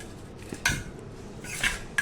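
A spoon clinks and scrapes against a bowl while cumin powder, salt, lemon juice and grated ginger are stirred together, giving three or four light taps and scrapes in a quiet room.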